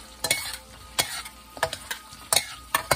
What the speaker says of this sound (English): So let's start. Stir fry, baby.